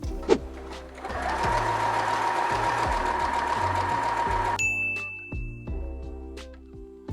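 A sewing machine stitches a hip strip to the front pant of a pair of overalls, running in a steady whirring burst for several seconds, then stopping, with a few short clicks and bumps of handling before and after.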